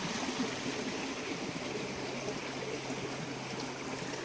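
Water from a reopened irrigation canal splashing and gushing like a small waterfall, a steady broadband rush that holds at an even level throughout, with no talk.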